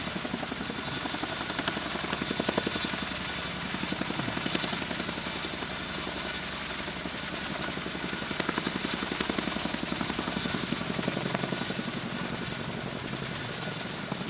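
A helicopter's rotor thumps steadily at close range as it lifts the Dream Chaser spacecraft on a captive carry flight, a rapid continuous chop over a droning engine, loud and unbroken throughout.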